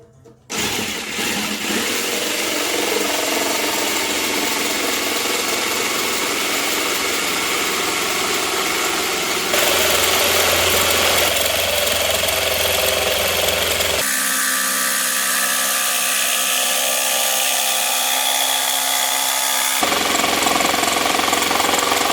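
A power tool cuts small wooden planks to rebuild the missing frame of a 1958 Schneider Melodie radio set, a loud, steady, harsh whine that runs continuously with shifts in pitch and load as the cuts progress.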